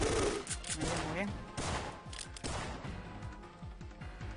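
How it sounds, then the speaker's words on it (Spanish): Gunfire in the video game Syphon Filter comes as rapid, crackling bursts of shots, dense and continuous at moderate loudness. "Dime a quién le disparo, Liam."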